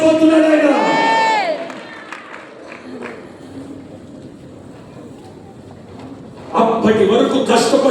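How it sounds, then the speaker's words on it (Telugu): A church congregation breaks into loud clapping and crowd noise near the end, after a stretch of a preacher's raised voice and quieter hall ambience. "కొట్టు చప్పట్లు గట్టిగా."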